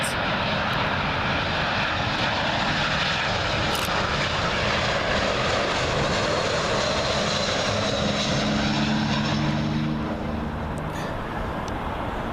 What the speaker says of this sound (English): Next up, Mia A320. I presume this is Lebanon. It's coming in from Beirut.